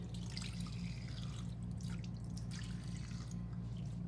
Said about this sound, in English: You remove all of the soap.